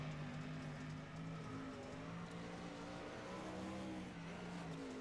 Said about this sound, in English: You can hear a little bit of difference in that car between the Griggs and the Hoffman and the Mueller car.